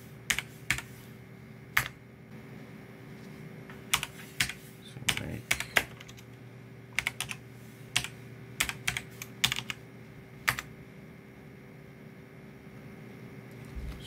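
Sporadic keyboard typing at a Raspberry Pi 4 running Raspbian: scattered clusters of sharp key clicks with pauses between, close and moderately loud over a steady low electrical hum.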